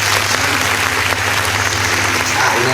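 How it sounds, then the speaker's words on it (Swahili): A class of students claps together for their teacher, a loud, continuous patter of many hands close by, steady from start to finish with no talk over it. "Haya, hebu nipigieni makofi na mimi."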